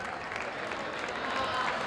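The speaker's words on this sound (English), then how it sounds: "The 6th man across the way will start clapping" Crowd clapping in a high school boys basketball gym during a game, a steady rhythmic patter from spectators across the court, with an announcer's voice faintly mixed in.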